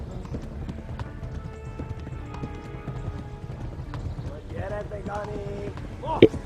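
Horse galloping in the video game Kingdom Come: Deliverance, a steady rapid clip-clop of hooves running continuously, with a brief louder burst near the end.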